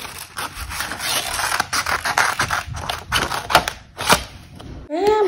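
Scissors cutting out a paper killer-clown Halloween decoration, with several crisp, close snips and paper rustles over about five seconds before a voice comes in at the end.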